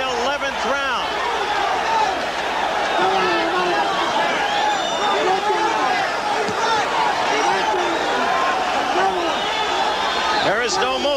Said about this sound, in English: The crowd mistakes it for a display of strength.